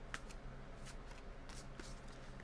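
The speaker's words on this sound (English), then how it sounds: "I need to shuffle them up." A deck of playing cards being shuffled, quiet riffling bursts with a few short sharp flutters spread across a soft, low background, no voices.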